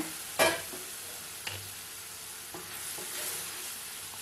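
Wheat halwa with melted sugar syrup being stirred in a pan, giving a few soft scraping strokes with one sharper clink near the start over a faint, steady background hiss.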